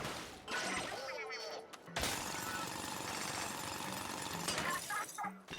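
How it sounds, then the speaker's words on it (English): A drill bot breaking a crystal in the video game Palworld, a sustained harsh grinding and crackling burst with shattering texture, loud and continuous with brief tonal game cues. "Stand next to the crystal and press X to call the bot to drill"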